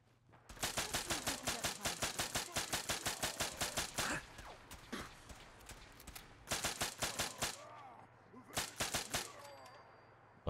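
Rapid bursts of automatic weapon fire from a gun in the video game Fallout 4, a long sharp volley followed by two shorter bursts, loud and close with brief pauses between.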